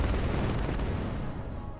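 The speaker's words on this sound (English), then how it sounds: "there's a heavy cannon somewhere" Heavy cannon fire in a naval combat video game rumbles as a loud, dense, sustained barrage of booming blasts, with no talk over it.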